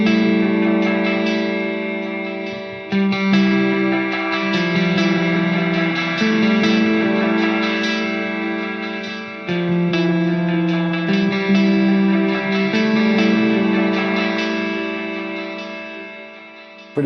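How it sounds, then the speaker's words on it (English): Line 6 DL4 MKII delay pedal running a filter delay on guitar, a continuous sustained wash of chords with repeating echoes sweeping through a shifting filter, loud and steady for the whole stretch with no talking. "So that's like a filter delay."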